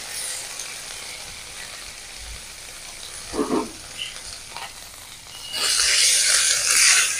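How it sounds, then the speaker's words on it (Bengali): Chopped tomato goes into hot oil with ginger paste for a prawn malai curry, bursting into a loud, steady sizzle after a few soft pan clatters. "তেলের মধ্যে দেবো টমেটো কুচি"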